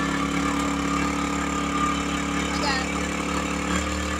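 A Powersmart 1000/1500 inverter generator engine runs steadily with a mid-pitched hum and harmonics, then shifts slightly in pitch as it speeds up under a 400-watt load, heard close and continuous.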